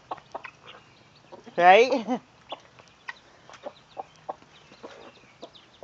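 Australorp hen and her chicks on a farm, with guinea keets nearby, give a loud burst of clucking and calls, followed by softer scattered peeps and clucks under occasional talk.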